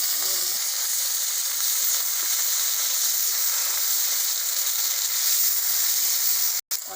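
Ginger garlic paste sizzling loudly in hot oil while cooking rohu fish kalia, with a steady, close, bright hiss lasting throughout and a brief cut near the end.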